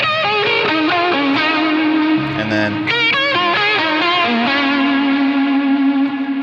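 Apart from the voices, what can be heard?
electric guitar lead part with Helix Native effects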